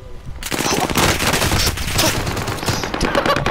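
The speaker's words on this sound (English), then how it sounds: "he started shooting" Loud, dense rapid gunfire bursts from a video game fill the clip, sustained and close after a brief quiet start.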